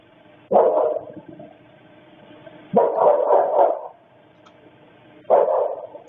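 Three loud bursts of dog-like barking, each a quick cluster of woofs separated by pauses of a couple of seconds, close and clear against a faint hum. The barking comes from a person imitating a dog.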